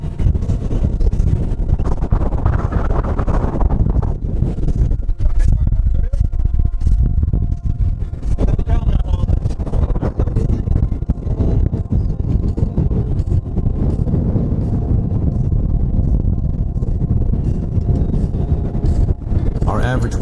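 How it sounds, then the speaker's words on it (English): Strong gusting wind of 25 to 32 knots, with gusts over 40, roars across a racing sailboat at sea, a loud continuous buffeting rush that swells and eases, with hull and water noise mixed in. "Wind speed is still between 25 and 32 knots, but gusts over 40 knots are no joke"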